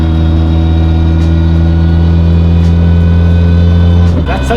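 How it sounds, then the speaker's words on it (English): A Mitsubishi Evo fitted with a sequential transmission holds a loud, steady drone of engine and drivetrain, with whining gear tones layered over it. The sound cuts off abruptly near the end. "I definitely don't mind the sound of the gears."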